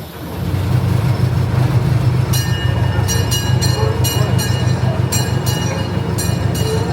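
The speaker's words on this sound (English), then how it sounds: "This train will be departing shortly for the main entrance train station." The Lake Winnie amusement-park tour train leaves the station with a steady low rumble of wheels and cars on the track, joined partway by bursts of repeated high metallic ringing or clattering.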